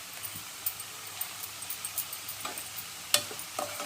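Gongura leaves being stirred into a frying onion mixture in a pan, with a steady soft sizzle and a run of light scraping, clicking stirs, one sharper clack near the end; close and fairly quiet, no talking.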